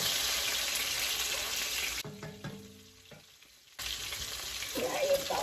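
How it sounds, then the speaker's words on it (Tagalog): Garlic sautéing in a pan, a loud close sizzle that drops away briefly in the middle, then returns with stirring scrapes and continues to hiss to the end. "I'm gonna saute the garlic"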